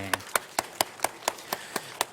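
Sharp claps ring out in a steady rhythm, about nine evenly spaced beats, as a church congregation applauds for the elementary children's choir during a Sunday morning service.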